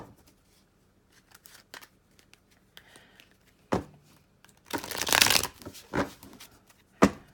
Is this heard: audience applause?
no